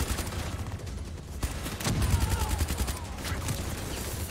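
Rapid gunfire from a turret in Call of Duty Black Ops 3, a dense fusillade of shots layered over continuous battle noise at moderate loudness, with no talk over it.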